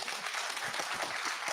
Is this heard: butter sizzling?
no